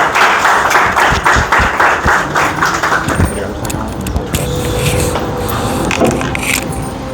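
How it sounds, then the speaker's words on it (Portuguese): Audience applause at a Sunday church class in a hall, a dense wash of clapping hands that is loudest over the first few seconds and then thins into scattered claps and room noise. "Palmas, por favor."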